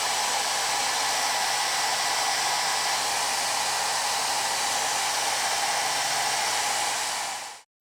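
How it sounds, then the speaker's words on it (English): A heat gun blows steadily on a plastic RC fender flare to soften it, a loud, even rushing roar that holds for about seven seconds and then cuts off abruptly. "I use a little heat to help mold the fender flare into shape."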